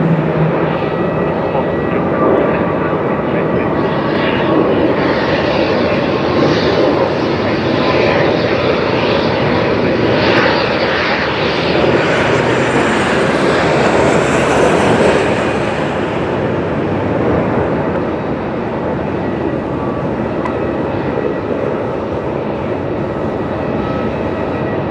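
A jet airliner's engines spooling up at Melbourne Airport, a loud sustained roar that builds and swells with a rising whine, then eases slightly toward the end, heard from nearby.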